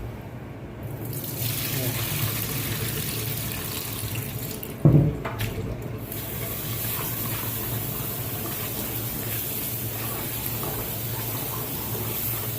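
Tap water runs steadily into a sink while rice is washed for biryani, a constant hiss with one brief clatter partway through and no talking.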